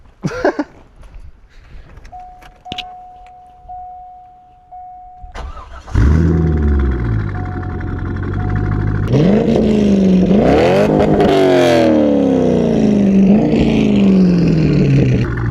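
A Chevrolet Corvette C5 V8 engine cranks and catches at about six seconds, then settles into a loud, rumbling idle punctuated by several sharp revs that rise and fall.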